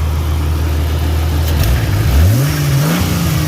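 A Jeep XJ engine fitted with new plugs and a new filter idles steadily, then revs up and settles, its pitch rising and falling. The sound is loud and close, with no talking.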